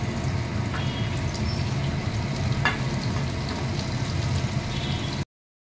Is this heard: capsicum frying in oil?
yes